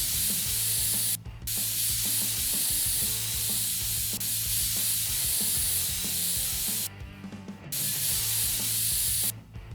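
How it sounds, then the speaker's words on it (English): Compressed air sprays steadily and loudly while dusting a computer in PC Building Simulator, a continuous close hiss broken by a few brief pauses. "we get out the good old compressed air, and we just spray around a bit until all the dust is gone"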